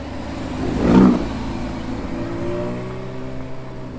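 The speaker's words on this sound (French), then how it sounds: "Tour de la Portofino de s'en aller." Ferrari Portofino V12 pulling away at low speed, with a brief swell of engine note near the start that then settles into a steady, fading rumble as it moves off.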